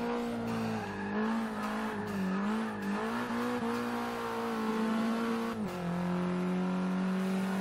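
A slammed Nissan IDx from Forza Motorsport 6 drives with a steady, buzzy small-displacement engine drone that wavers in pitch through throttle changes and briefly drops with a shift before climbing again, with faint tire noise and no talking.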